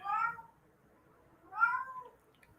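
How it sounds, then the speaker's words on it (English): A cat meows twice, nearby and clear, with a short pause between the two drawn-out calls against a quiet background. "How's the shadow kitty?"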